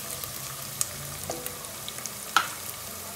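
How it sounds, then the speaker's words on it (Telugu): Food fries in a pan until golden, a faint, steady sizzle with occasional small pops and clicks and no voices. "ఇవి రెడ్గా వేగాలి, గోల్డెన్ కలర్ రావాలి."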